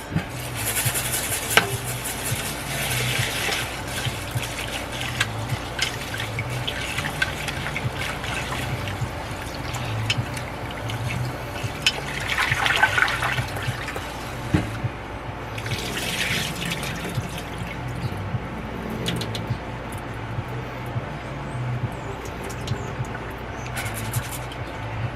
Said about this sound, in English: now to rinse the rice